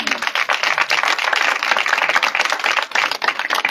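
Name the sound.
congregation clapping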